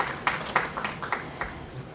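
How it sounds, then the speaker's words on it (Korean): An audience at a university admissions information session claps briefly to welcome the admissions team leader; scattered, light applause with a few distinct claps, fading within about two seconds. "뉴욕주립대학교 공예나 입학팀장님을 박수로 환영해 주시기 바랍니다."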